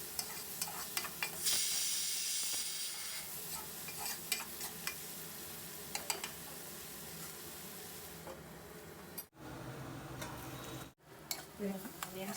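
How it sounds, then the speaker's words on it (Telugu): Onions with turmeric frying under a lid in a pan for a village-style dry fish curry, giving a steady close sizzle with occasional clicks and stirring taps and two brief dropouts near the end. "ఆనియన్స్ బాగా వేగలుగుతాయి."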